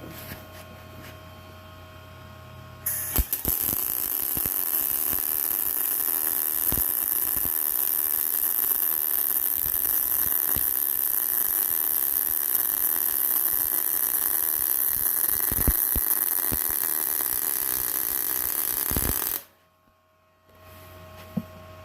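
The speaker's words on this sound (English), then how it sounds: "I don't know if I can weld and record this and you'll be able to see it." Arc welding on a custom rear bumper for a Mahindra Roxor: a steady, loud crackling buzz that starts abruptly, holds for about sixteen seconds with small pops, then cuts off into near silence.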